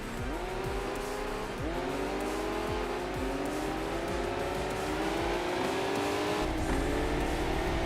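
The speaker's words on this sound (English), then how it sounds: "you can even hear the other opponents as well being very, very gentle on the throttle" Opponent race cars' engines in Enthusia Professional Racing, a Miata among them, revving gently on the throttle, several overlapping engine tones rising and falling through gear changes, loud and continuous with occasional tire squeal.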